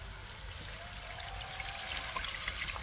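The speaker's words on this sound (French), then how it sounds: "Et on va verser tout doucement le bouillon de légumes." Vegetable broth is poured slowly into a blond roux for a traditional Luxembourg bean soup, a soft continuous trickle and dribble of liquid, quiet and close.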